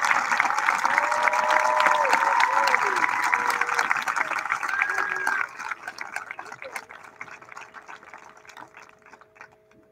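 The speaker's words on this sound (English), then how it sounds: "can we give a round of applause to our teachers?" An audience at a middle school graduation applauds its teachers. Dense clapping runs under cheering and whooping voices, then thins and fades out over the last few seconds, leaving scattered claps and a low steady hum.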